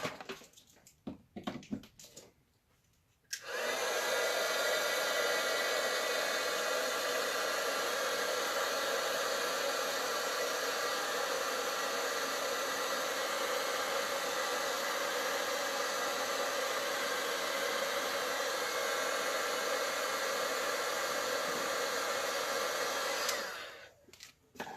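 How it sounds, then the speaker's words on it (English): A heat tool roars steadily for about twenty seconds while drying a paper card, loud and continuous broadband blowing that starts abruptly after a few faint handling noises and cuts off near the end. "I am actually going to grab my heat tool and I'm going to heat dry this."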